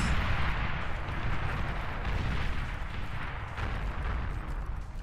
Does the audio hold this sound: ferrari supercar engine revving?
no